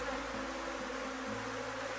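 Honeybees swarming around hive frames at a small apiary, a dense continuous buzzing hum, close and fairly quiet, steady with no speech.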